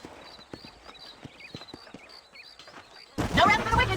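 Horse hooves clip-clopping in the video game Red Dead Redemption near Armadillo, a steady close rhythm of hoof knocks with game music, ending in a burst of loud speech.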